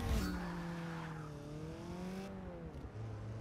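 A Porsche race car in Forza 6 on the Lime Rock Park circuit, its engine revving with a rising and falling whine while the tires squeal through a skid. Loud and continuous, with no talk over it.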